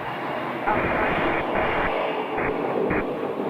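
Airplane taxiing along the ground at Scottsdale airport, a steady, fairly loud engine rumble and whine that holds throughout with slight swells, alone without talk.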